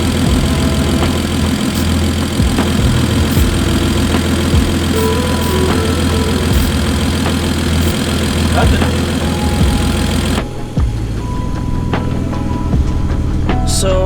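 A turbocharged BMW E46 engine idles roughly with a steady, uneven low rumble and knocking pulses, close and loud throughout.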